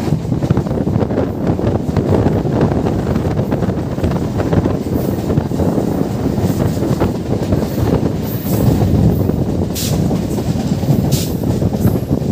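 Bangaon to Ranaghat local train running along the line, a steady loud rumble with wind buffeting the microphone and occasional high wheel squeals, continuous throughout without speech.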